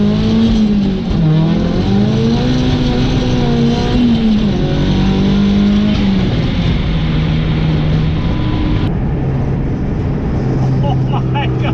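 A Mazda Miata is driven hard on a street pull, its engine loud and close as it revs up through the gears with a quick flat shift, then drops back to a lower drone near the end.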